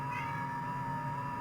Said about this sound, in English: there's a kitty cat in the background. Wants some attention.